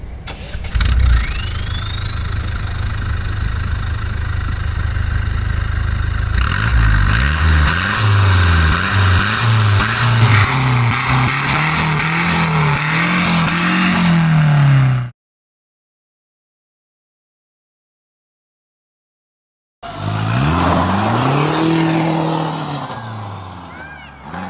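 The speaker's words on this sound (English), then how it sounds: "let's hear the exhaust note" A tuned 160 horsepower diesel Ford Aspire starts and idles, then revs repeatedly with a deep, rumbling performance exhaust; after a brief silence, more loud revving follows.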